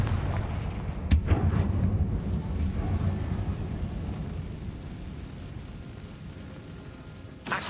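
Confringo fire spell explosions in the Hogwarts Legacy video game: a loud booming blast near the start with a sharp crack, then rolling rumble that fades, and another burst right at the end.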